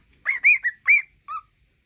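A pet cockatiel whistles a short tune, the Mickey Mouse theme, in four close bright phrases followed by a brief final note, loud and near, with no talking.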